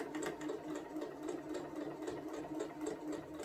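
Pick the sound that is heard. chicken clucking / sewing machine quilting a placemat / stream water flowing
sewing machine quilting a placemat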